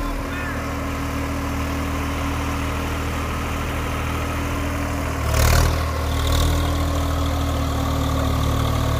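A Swaraj 855 4x4 tractor runs in fourth low gear with a steady, droning diesel hum close by, a brief louder surge in the middle, and no talk over it.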